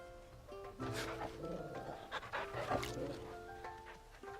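Dog in the video game Final Fantasy XVI panting softly and steadily as it is petted, with faint in-game ambience beneath.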